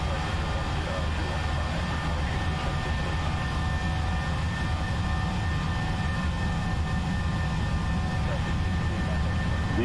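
Simulated Boeing 737 jet engines hold takeoff thrust in the Prepar3D flight simulator, a continuous loud roar with a steady high whine and no break.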